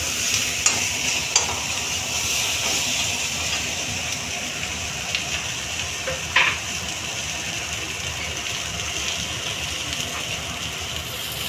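Potatoes, capsicum and half a tomato fry in mustard oil with panch phoron and roasted gram flour in a kadai. A loud, steady sizzle carries on throughout, with a few sharp clicks of the spatula against the pan.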